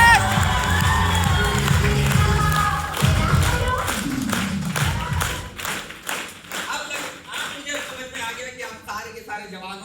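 A seminar crowd cheers and shouts over a loud, dense burst of clapping and music at first, then the noise gives way to scattered rhythmic claps and thumps that continue under voices.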